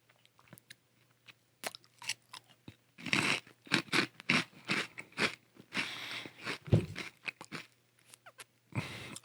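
Hot Cheetos being eaten up close, with crisp crunching bites followed by repeated chewing crackles in an uneven rhythm, quiet and intimate with no talking.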